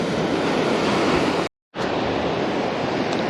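Waves washing onto a lake shore on a breezy day, a steady loud rushing wash broken by a brief gap partway through.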